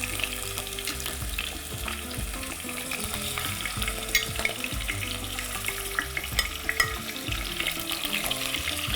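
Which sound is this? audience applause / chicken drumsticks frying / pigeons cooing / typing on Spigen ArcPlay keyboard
chicken drumsticks frying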